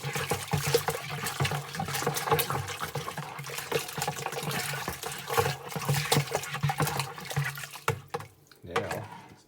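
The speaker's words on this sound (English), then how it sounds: "using our really long spoon that's also been sterilised, we mix the malt sugar" Malt sugar stirred into water with a long spoon while making beer, a continuous sloshing and swirling of liquid with irregular splashes and clinks, close and steady, with no talk.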